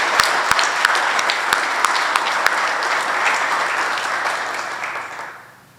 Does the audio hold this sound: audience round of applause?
yes